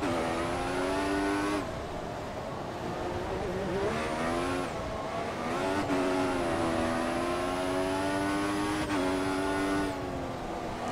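An F1 race car engine in the video game F1 2014 runs a qualifying lap at the Singapore Grand Prix, a loud, high whine that climbs through each gear and drops sharply at every shift, with no talk.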